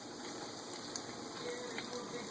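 Donuts frying in hot oil on a Saturday morning, giving a steady, close, even sizzle and bubbling hiss throughout, with no talk over it.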